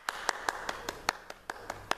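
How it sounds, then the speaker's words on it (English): Sparse, rhythmic clapping from a church congregation at a Sunday service celebrating birthdays, a few hands beating a steady, fairly quiet pulse of about five claps per second. "So a round of applause for them."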